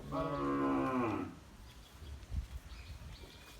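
A single loud moo rings out from a young Sahiwal bull calf, then fades to quiet rustling and soft farmyard background noise.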